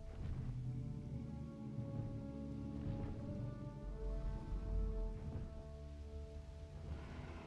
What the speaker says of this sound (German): Und da fängt schon an zu regnen.